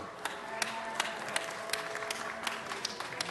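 Applause for Los Angeles Mayor Eric Garcetti at a city council meeting, a steady wash of clapping from the chamber with a few sharper claps standing out, moderately distant.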